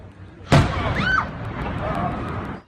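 A gas line explosion during a powerful earthquake in Mexico: a sudden loud blast bursts out, followed by a long rumbling roar with shouting voices and crowd noise underneath.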